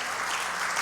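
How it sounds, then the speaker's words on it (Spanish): Congregation applauding at a church service to mark a pastor's ordination, a dense, steady wash of clapping filling the whole moment without pause. "le damos un aplauso por la ordenación del pastor Luisito"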